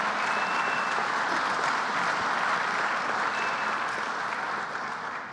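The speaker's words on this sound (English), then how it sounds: "Let's give them a round of applause." A large room at a business association dinner fills with a sustained round of applause, dense steady clapping from many hands lasting several seconds and tapering slightly at the end, with no talk over it.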